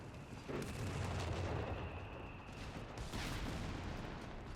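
Anti-tank guns firing in the Company of Heroes 3 strategy game, a German Pak gun and a British 6-pounder, heavy booming reports that roll into a dense, rumbling battle din, with a second distinct shot about three seconds in.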